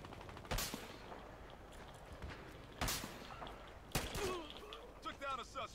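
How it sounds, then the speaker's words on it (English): Pistol shots from the Battlefield Hardline video game crack out in three sharp, widely spaced reports over a murky background of game noise, with faint talk and rattling in between. "Took down a suspect. Headshot with a pistol."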